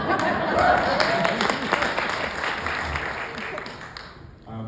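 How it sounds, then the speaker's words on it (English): Indoor audience at a live comedy-style stage show applauding, dense clapping that swells at first then gradually thins and fades, with a few chuckles mixed in. "thank you for the polite applause to Stephen's jokes."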